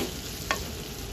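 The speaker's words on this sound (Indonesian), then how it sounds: "Kita goreng sampai dia matang ya." Dried shrimp sambal fries in a pan in a home kitchen in Japan, giving a steady dense sizzle with one brief scrape of stirring.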